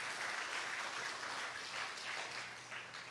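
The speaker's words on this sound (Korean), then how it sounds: "박수 한번 쳐야죠." Faint, steady applause from an audience at a New Year's Bible retreat morning message, a dense wash of many hands clapping continuously for a few seconds without speech.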